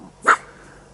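A single short dog bark sounds at a distance outdoors in rural countryside near fields, a brief isolated burst against quiet background.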